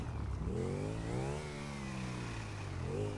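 A motorcycle engine in the video game GTA V revs up, eases off, then climbs again in a continuous mid-pitched whine with no talking.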